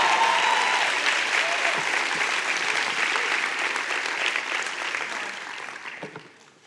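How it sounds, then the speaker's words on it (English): A church congregation clapping hands during a sermon, a sustained broad wash of applause that holds steady and then tapers off toward the end, with no speech over it. "Now you can clap your hands."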